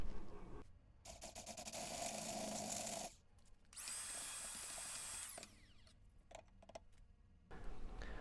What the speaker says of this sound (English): let me go ahead and drill this out even bigger